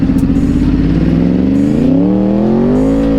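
Dodge Charger accelerating hard, a loud close engine roar with pitch climbing steadily across the pull and a brief stutter as traction control cuts in, no voices over it.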